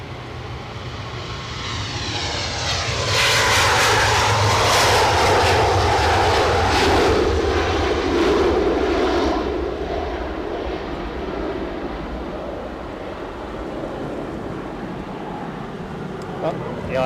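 An Iberia Express jet airliner on a flight to Madrid moves off at Edinburgh airport, its engine roaring loud and steady, swelling, then easing to a sustained rumble in the open air.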